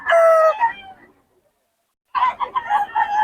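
A bullstag rooster crows loudly and close by at a market stall, one harmonic call followed by a pause and then a second, choppier crow.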